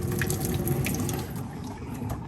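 Ice-cold water gushes steadily into a bowl in a kitchen, a close, continuous splashing pour that eases slightly toward the end.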